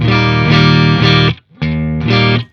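Electric guitar played through the clean channel of a Synergy Syn20IR amp module: two loud, ringing sustained chords, the first held over a second, then a short gap before the second, with no talking.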